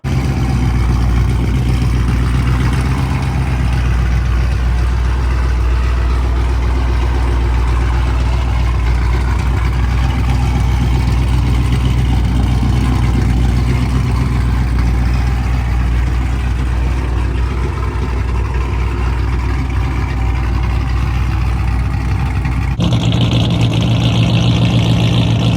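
A cammed, Scat-swapped 2007 Dodge Charger idles loud and close with a lumpy, uneven chop, holding a steady heavy rumble for the whole stretch before a sudden shift near the end.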